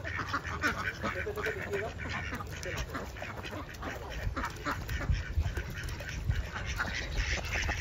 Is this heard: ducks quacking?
yes